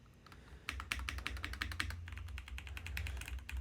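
Fast, crisp typing on a DROP CSTM80 mechanical keyboard fitted with Gateron Milky Yellow Pro KS-3 switches, a dense run of close key clacks with no talking.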